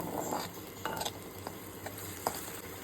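Ginger and garlic fry in oil in a pan while being stirred, a steady close sizzle broken by scraping stirs and a few light clinks of a utensil against the pan.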